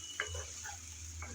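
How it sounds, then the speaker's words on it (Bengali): Boiled mustard greens being stirred with vegetables in a pan, a few soft scraping taps of the spoon over a quiet, steady sizzle. "শাক দিয়ে ভালোভাবে নেড়েচেড়ে সবজির সাথে মিশিয়ে নেব।"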